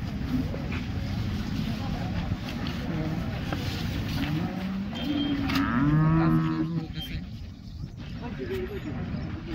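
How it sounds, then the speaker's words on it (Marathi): At the Modnimb cattle market, a big dairy cow lets out a loud, close moo partway through, with crowd chatter and passing vehicles all around. "ही पण गाय बघा एकदम भोपळ्यासारखी गुबगुबीत गाय"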